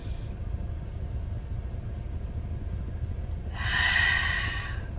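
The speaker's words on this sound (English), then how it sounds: "Take a deep breath." A deep breath drawn in and held, a soft airy inhale rising near the end after a stretch of quiet low room noise, close and fairly faint.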